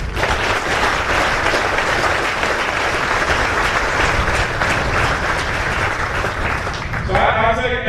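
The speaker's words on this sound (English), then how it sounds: "So join me in a round of applause for all the veterans." A crowd at a military opening ceremony applauds the veterans, dense sustained clapping that stays loud for several seconds before cutting off near the end.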